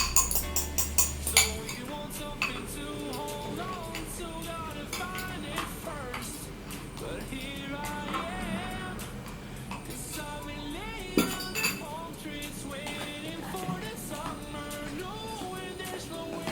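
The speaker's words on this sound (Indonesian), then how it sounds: "Lalu kita campurkan ke dalam makaroni." Macaroni being stirred together with a beaten egg mixture in a bowl, giving repeated clinks and scrapes of utensil against the bowl, with busy background music throughout.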